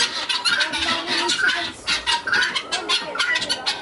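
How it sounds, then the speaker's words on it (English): Many chickens on a farm cluck and squawk together in a busy, overlapping chorus, close and fairly loud, continuing steadily throughout. "So many chickens."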